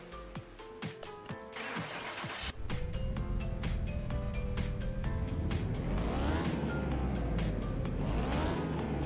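A Mazda RX-7 on a dyno in Car Mechanic Simulator 2021 idles roughly, then its engine note jumps and climbs into a sustained, rising rev that stays loud and continuous.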